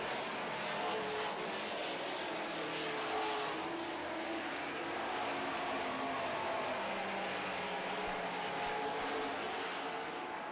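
Super stock race cars roaring around a track during a late-lap feature race, a steady dense engine drone that stays continuous and fairly distant throughout, with no talking.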